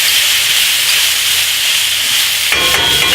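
Garlic and shiitake mushrooms sizzle in a hot pan, a steady loud hiss that runs unbroken and gets brighter and busier near the end.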